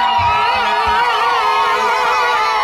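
A large crowd of CCM supporters at a political rally fills the air with loud, sustained high-pitched ululation and cheering, a dense trilling wall of voices with a few low thumps underneath.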